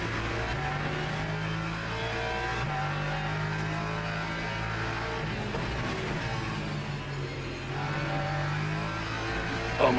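Race cars at Le Mans in a racing video game drone with steady, layered engine notes whose pitch rises and falls as gears shift. The engines hold a constant, moderately loud level throughout.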